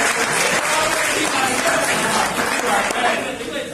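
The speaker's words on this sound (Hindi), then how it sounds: "तालियां बजा सकते हैं यार" Audience applause at a Modicare business opportunity and recognition meeting in Hisar, sustained crowd clapping with chatter and voices mixed in throughout.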